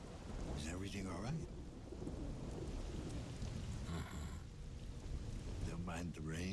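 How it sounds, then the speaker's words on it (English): Steady heavy rain and rumbling thunder fill a night scene in the video game Observer, with voices speaking now and then over the downpour. "Don't mind the rain?"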